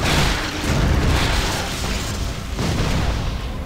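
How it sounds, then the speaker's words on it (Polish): A deep, loud explosion in Torchlight II rumbles and roars continuously, filling the short stretch with heavy booming noise. "Dobra, kolejny wybuch."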